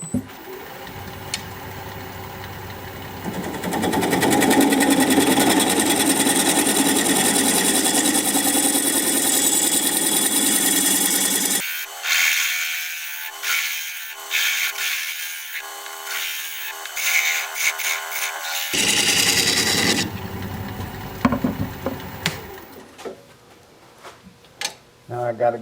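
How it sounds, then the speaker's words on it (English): A wood lathe spins a mystery-wood bowl blank while a 1/2-inch bowl gouge cuts a recess, giving a steady motor hum with scraping cut noise that stops for several seconds midway, then resumes, with someone talking at points. "I'm gonna switch to a 1/2-inch bowl gouge to make the recess."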